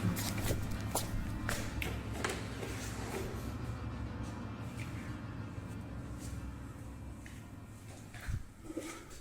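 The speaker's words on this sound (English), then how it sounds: "I think I just heard some footsteps." Shuffling footsteps move about in a dim, quiet space, with faint taps and scrapes repeating over steady background noise throughout.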